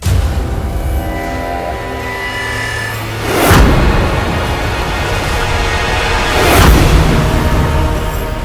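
Two deep booms about three seconds apart burst out of a steady rumbling background, each one loud and heavy like a distant explosion collapsing a tunnel.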